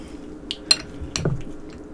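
Shrimp, imitation crab, cucumber, jalapeno, tomato and onion being stirred together for ceviche, with a few close clinks of a utensil against a bowl and soft wet squishes over roughly two seconds.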